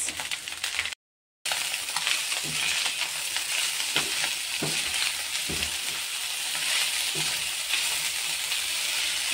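Chicken pieces and boiled pasta fry in a hot pan with a steady, close sizzle, broken by occasional stirring scrapes and clinks, with no talking.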